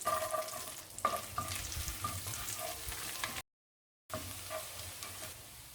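Butter and garlic frying in a wide kadai, a steady crackling sizzle with light stirring, briefly cut to silence partway before the sizzle resumes.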